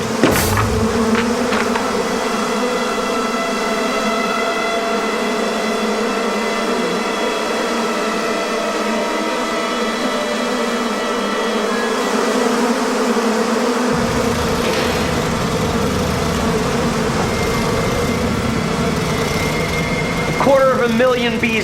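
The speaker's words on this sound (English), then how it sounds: "Million bees buzzing throughout the metropolitan area." A dense, steady buzzing drone like a swarm of bees, continuous and fairly loud for the whole stretch, with a low rumble that drops away partway through.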